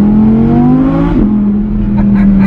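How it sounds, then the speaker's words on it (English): A car exhaust drones loudly and close as the engine revs and the pitch rises, then drops and settles. The sound echoes off the buildings along Front Street in Harrisburg, Pennsylvania. "You get to echo the exhaust off the buildings."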